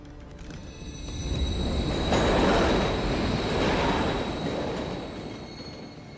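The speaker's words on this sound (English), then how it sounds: "Another train coming." A train in the video game Call of Duty: Modern Warfare III rumbles past, swelling to a loud roar in the middle and fading again, with a high steady whine above the rattle.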